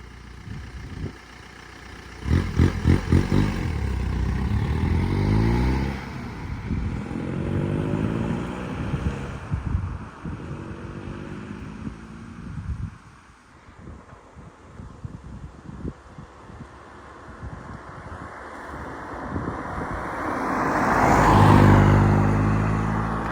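A turbo diesel Seat Ibiza pulls away from a standstill, its engine note rising through the gears with rhythmic pulsing and turbo whir, fading as it moves off, then swelling again as it returns near the end.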